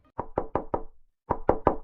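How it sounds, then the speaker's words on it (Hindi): Knuckles knock on a wooden house door in two loud, close bursts of four even raps each, with a brief pause between the bursts and no talk. "घर के दरवाजे पर खटखटाने की आवाज आई।"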